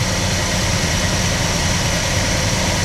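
A 1967 Plymouth Belvedere II engine runs steadily near 1,200 rpm with a rough idle, producing a continuous loud low rumble with a constant vibration and no break in sound.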